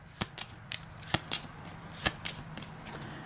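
A deck of Aeon's End strike cards being shuffled by hand at close range, with quick crisp riffling bursts and card snaps in an irregular rhythm and no voices.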